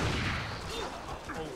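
Gunfire in the video game Resident Evil 4, a burst of booming shots at the start followed by fainter echoing blasts, with game noise around them.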